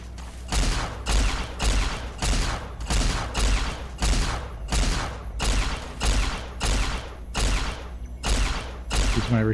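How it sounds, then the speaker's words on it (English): A recharger pistol in Fallout: New Vegas fires in a steady, rapid series of about fifteen loud, evenly spaced energy shots, each a punchy burst with a low thump, close and alone. "Use my recharger pistol to take pot shots."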